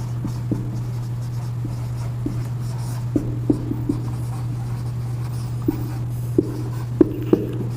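A physics numerical solution being written by hand: soft pen scratches and taps at an irregular pace over a steady low electrical hum, with no talk.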